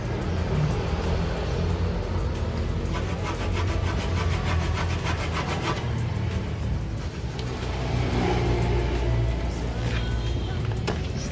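A power saw cuts through old reclaimed wood for a homemade ladder, giving a loud, steady, gritty whine that runs unbroken through the whole stretch with slight rises in pitch.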